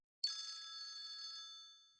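A ringtone chimes on a Sony PSP handheld for an incoming call, a single bright electronic ring that starts sharply, holds steady and fades out at the end, heard alone.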